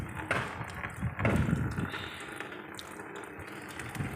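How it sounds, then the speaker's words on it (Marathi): Water runs thinly from a tap on a house terrace under low water pressure, giving a steady, soft hiss with a few faint knocks and clatters. "पाणीच बारीक घ्यायला लागलं काल चांगलं मोठं येत होतं"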